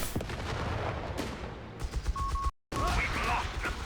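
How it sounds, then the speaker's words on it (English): An incendiary grenade bursts in a Company of Heroes 1v1 match with the Canadian battlegroup, amid dense battlefield gunfire and rumbling explosions. A sharp break comes near the middle, then more crackling blasts follow. "Huge grenade. The greatest grenade. This is new. This is this incendiary thing."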